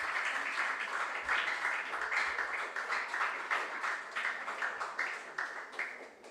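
Audience clapping for teams at a regional junior science and maths quiz final, a steady patter of many hands at moderate level, fairly even throughout.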